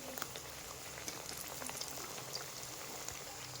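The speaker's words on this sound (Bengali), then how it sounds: "এই চপটা কিন্তু ভাজার সময় ধিমা জালে উল্টে পাল্টে ভাজতে হবে" Bitter gourd chops frying slowly in oil over a low flame, giving a steady, close hiss and fine crackle that runs unbroken throughout with no talking.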